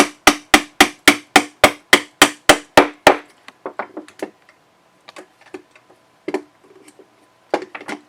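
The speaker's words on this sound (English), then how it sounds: "you might actually need to use a hammer to do this" A hammer tapping a punch to drive a pin out of an M4 rifle platform during disassembly: eleven sharp, evenly spaced metallic taps, then quieter irregular clicks and light knocks.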